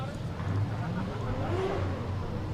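A BMW drift car revs in the burnout box at the Oman International Drift Championship, warming its tyres; the engine drones low and steady with a rising rev swell, heard under a commentator's talk.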